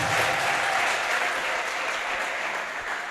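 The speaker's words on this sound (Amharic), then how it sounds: "ለዚህ ድምጽ እስቲ አጨብጭቡ" A church congregation applauds during a prophet's sermon, a dense, steady wash of many hands clapping at once that holds evenly from start to finish.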